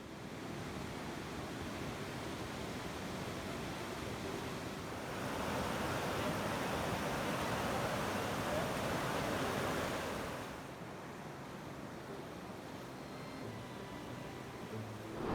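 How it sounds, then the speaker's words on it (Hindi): The Saryu river flows and babbles near a village at the confluence of two rivers in Bageshwar, Uttarakhand, a steady broadband rush that swells louder in the middle and eases again, with no voices. "कलकल बहती हुई सरयू नदी"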